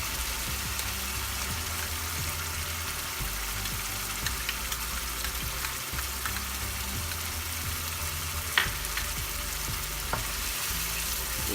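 Poppy seed paste fries and gets stirred in a pan for pomfret fish curry, a steady close sizzle with occasional soft clicks of the spoon and a low hum underneath.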